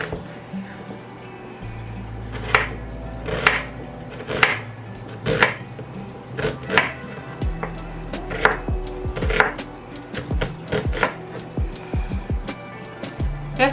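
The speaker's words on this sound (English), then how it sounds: "Next, I have 1 medium onion. And I'm just going to chop this up." A knife chops a medium onion on a cutting board, with repeated sharp knocks in uneven bursts, close and fairly loud, and a low hum beneath.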